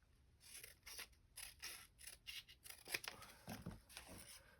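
Scissors cut and trim paper for a handmade Halloween journal in a series of quiet, crisp snips and rustling tears, close up and soft, with no talk.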